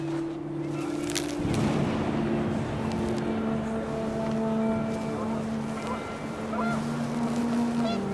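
Several geese honk repeatedly in the video game What Remains of Edith Finch, a cluster of nasal calls over wind and a steady low hum, with a voice speaking over them.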